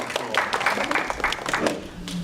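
Scattered applause from a church gathering, a short burst of uneven clapping by a modest group, with talking mixed in over it.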